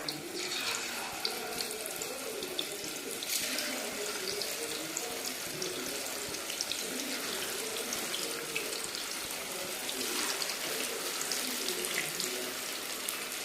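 Chicken pieces fry in hot oil for a Kerala-style chicken fry, a continuous, dense crackling sizzle heard close and at an even level throughout.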